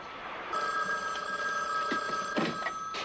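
A telephone bell rings in short repeated bursts indoors, clear and fairly close, with no talking over it.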